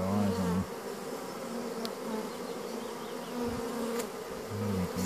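Honeybees fan their wings at a hive where the queen has settled, making a dense, steady buzzing hum close by with no voices.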